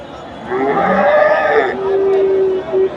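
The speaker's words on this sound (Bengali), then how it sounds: "এই যে ফ্রিজিয়ান ক্রসের ষাঁড় গরু, এগুলা বিক্রি হয়ে গেছে, এগুলা চলে যাবে।" A Friesian cross bull at a cattle market in Bogura lows loudly nearby, one long drawn-out moo followed by a shorter tonal call, with faint market chatter behind.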